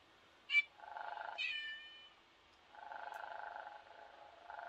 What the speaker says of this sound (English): it has a battery pack and it purrs and blinks. Oh, and it meows!